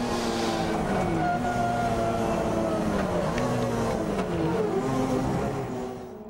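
Touring car engines at a racing circuit, loud and close, a steady revving roar with shifting pitch as the cars pass, fading at the end.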